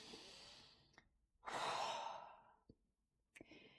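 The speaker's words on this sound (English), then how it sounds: "We're going to take some really deep breaths." Slow deep breathing during a guided relaxation exercise: a long drawn inhale, then a soft sighing exhale, with brief quiet gaps and small breath clicks between, close and fairly quiet.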